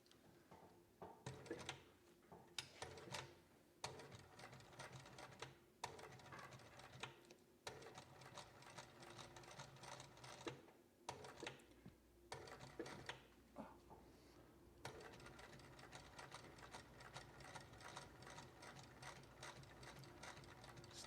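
A sewing machine double-stitching custom footwear runs in close, rapid mechanical bursts with short pauses between runs, alone and fairly quiet.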